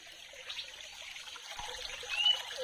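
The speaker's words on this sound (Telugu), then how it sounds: "ఈ కాలం నీళ్లు ఇట్లా అటవీ ప్రాంతం గుండా ప్రవహించి కిందకి" A small stream trickles through forest at Udayagiri fort in Nellore District, with a faint, soft, continuous dribble heard at a distance amid quiet surroundings.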